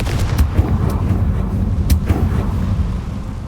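Confringo fire spell blasts in Hogwarts Legacy, a few sharp cracking bursts over a heavy rumbling background, loud and close.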